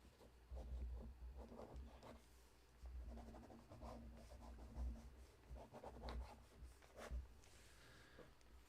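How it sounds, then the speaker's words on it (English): Pencil sketching a box on paper, close soft scratchy strokes in short bursts with brief pauses between lines, quiet and alone. "I'm going to sketch a box."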